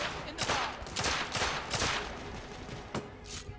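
Rapid gunfire crackles in The Order 1886, several sharp shots in close succession over continuous game ambience, with a faint voice underneath.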